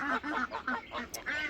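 Backyard waterfowl, ducks with a pet goose among them, give a run of about five loud, nasal honks and quacks in close succession, near and uneven, with no talking.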